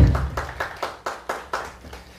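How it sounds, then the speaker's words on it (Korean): A church congregation at a Friday prayer meeting claps in thanks to God, about nine loud, evenly spaced claps in a steady rhythm, close and distinct with no voices over them. "우리 하나님께 감사의 박수 올려드립니다"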